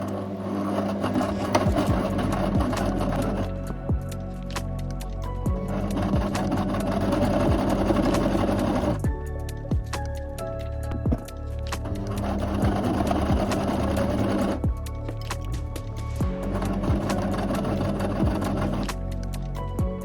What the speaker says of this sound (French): on va venir coudre au point droit le plus près de ce pli